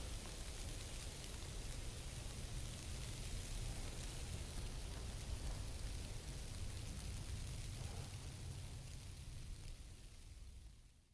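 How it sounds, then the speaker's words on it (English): Snow showers patter steadily on a tarp over an outdoor winter camp at night, a soft, even hiss of fine impacts that continues throughout and fades slightly at the end. "Late in the night, I woke up to the sound of snow showers on the tarp."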